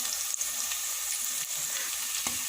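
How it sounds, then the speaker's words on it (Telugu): Whole spices, cinnamon, cloves, bay leaf and shahjeera, frying in oil in a pan, a soft continuous sizzle with a couple of faint clicks of stirring. "వీటిని కొంచెం సేపు ఫ్రై చేసుకుందాం. చెక్క, లవంగాయ, బిర్యానీ ఆకు, షాజీరా వేసుకున్నాం."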